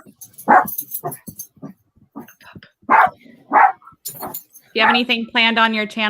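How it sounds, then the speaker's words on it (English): Dogs barking inside a house: several sharp, loud barks and a few higher whining yelps come in bursts, mixed with jingling keys, while people talk over them. "so sorry about the dogs."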